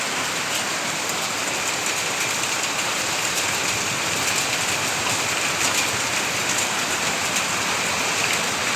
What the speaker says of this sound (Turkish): Doluyla beraber yağıyor.